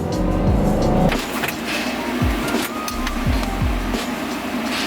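A 2012 Subaru STi pulls into a tuning shop at low speed with a steady engine rumble, a few short revving sweeps and a fan-like hiss, fairly loud and close, with no talking.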